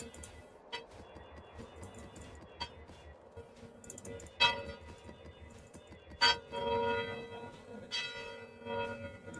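Bells ringing inside the video game Path of Exile, a series of bright clanging strikes over a busy layer of game sound, with the loudest peals standing out in the second half.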